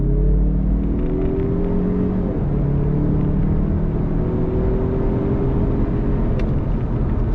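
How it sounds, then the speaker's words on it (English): A 2021 Mazda CX-30 Turbo AWD pulls away from a traffic light, its engine note rising steadily under a constant road rumble heard from inside the cabin, with no talking. "pulling away from the light. Throttle sensitivity is right on point. And here we go."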